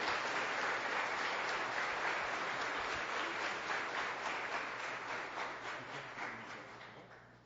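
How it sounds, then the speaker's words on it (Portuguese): A church congregation applauds to welcome a pastor during a Sunday service: dense, steady clapping from many hands that holds evenly and then slowly fades toward the end. "Vamos saudar o pastor Wilson com uma salva de palmas, a Lilita"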